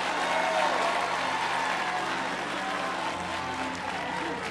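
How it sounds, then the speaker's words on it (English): A church congregation claps and shouts in a steady, dense wash of applause and crowd noise that continues without a break. "Somebody give the Lord a clap and a shout."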